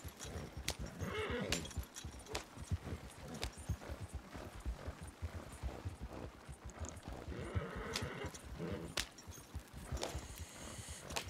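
A horse gallops in the video game Red Dead Online, its hooves pounding in a steady, rapid rhythm for the whole stretch, close and without any talk over it.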